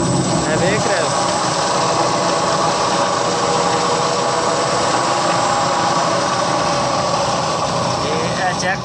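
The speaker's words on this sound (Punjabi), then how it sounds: "ਹੁਣ ਵੇਖਦੇ ਹਾਂ ਮੋਟਰ ਕਿਹੜੇ ਪਾਸੇ ਚੱਲਦੀ ਹੈ" An electric motor runs after its inverter settings are adjusted. It gives a steady, loud, continuous hum and whine that stays even throughout.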